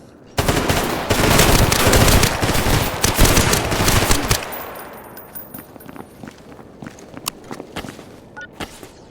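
Enemy gunfire in a first-person shooter set in Pripyat: dense machine-gun bursts rattle loudly for several seconds, then give way to scattered, sharper single shots and cracks that thin out into sparse reports.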